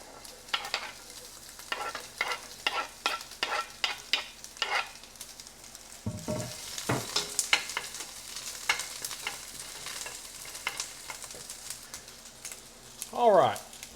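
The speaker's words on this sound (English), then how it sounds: "throw your onions in there and get those things" Onions frying in a pan for beef stroganoff, a steady sizzle broken by repeated stirring scrapes and clatters, with a brief voice-like sound near the end.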